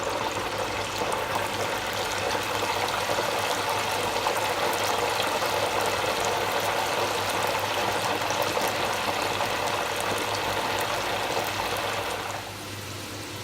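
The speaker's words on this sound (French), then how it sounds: "quand une pomme de terre en friture est cuite, c'est plus tout à fait le même son" Steady bubbling hiss of vitelotte potatoes deep frying in hot oil, continuous and fairly even, with no voices.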